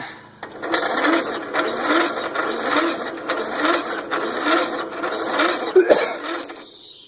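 An old Craftsman engine on a half-dead battery with a failing ignition sputters in a steady run of regular chugging pulses, close and fairly loud, before cutting out near the end.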